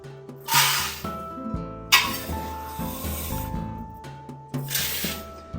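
White flour is scooped from a barrel in a home kitchen, with soft, close rustling swooshes that repeat about three times among quiet background tones.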